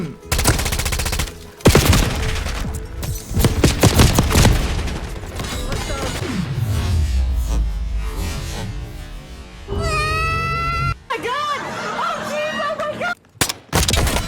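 Bursts of rapid gunfire and booms from the video game Call of Duty: Black Ops 6, loud and chaotic, with louder stretches and brief gaps between volleys.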